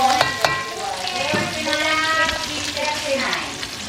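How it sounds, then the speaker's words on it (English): Food browns in a pan as it is stirred, giving a steady close sizzle with scraping and stirring noises, and a voice talks over it. "Continue to stir these, and they're starting to brown."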